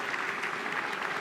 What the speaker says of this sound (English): Applauded by members of his team who come from inside number 10 and number 11 onto the steps